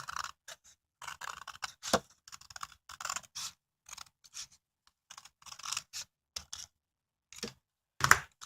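Scissors cut paper for book construction in a quiet room, making a series of irregular, crisp snips and light paper rustles with short pauses between cuts.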